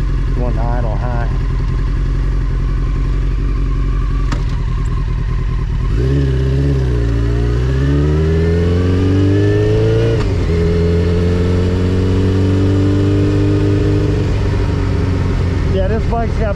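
A 1995 Honda CBR900RR Fireblade motorcycle engine idles steadily while warming up, then its pitch rises and settles as the idle is turned, a loud close continuous drone with talk over it.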